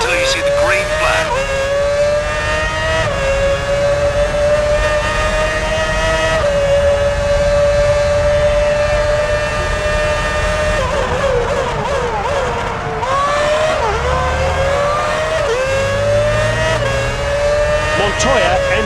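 Formula One race cars in the F1 2006 video game scream at high revs, pitch dipping and climbing through gear changes and corners, loud and continuous with commentary-like voices faintly mixed in.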